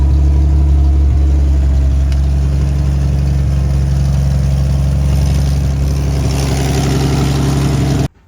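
A Toyota FJ40 idles steadily while its differentials are run in with diesel fuel. The engine drone is loud, close and continuous, with a deep rumbling hum that cuts off abruptly at the end.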